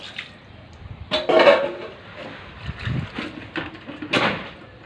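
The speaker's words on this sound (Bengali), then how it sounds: "এ তুই থালা বাসন মাজছিস সেখানে?" Dishes being scrubbed under running water in a home kitchen, heard as uneven splashing and rushing bursts with small clinks, close by, with no voices.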